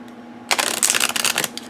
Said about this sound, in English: So let's give it a shuffle though.